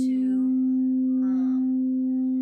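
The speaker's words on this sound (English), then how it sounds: "So this is a C bowl." A C-note singing bowl rings with one steady, sustained pure tone that hums loudly and evenly throughout, with faint voice-like sounds briefly above it.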